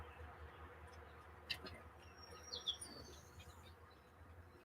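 Faint bird chirps and short tweets ring out sporadically over a quiet outdoor background on the coast of Maine, a few calls standing out briefly.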